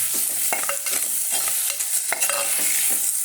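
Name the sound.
tomatoes added to sautéing onions and stirred in a pan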